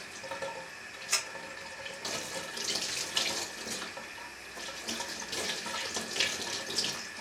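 Warm tap water runs steadily over a paintball gun barrel, a soft continuous splashing stream with brief louder spatters as the barrel shifts under the flow.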